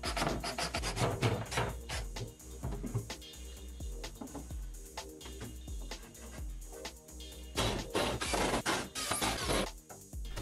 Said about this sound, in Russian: Наживляем 4 самореза и прикручиваем брусок к стене.